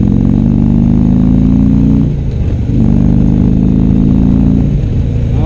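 A Harley-Davidson Road Glide motorcycle engine runs loud and close while riding, a deep steady rumble that dips briefly and then rises again as the throttle opens.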